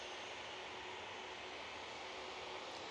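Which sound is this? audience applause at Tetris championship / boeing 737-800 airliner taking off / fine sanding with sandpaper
boeing 737-800 airliner taking off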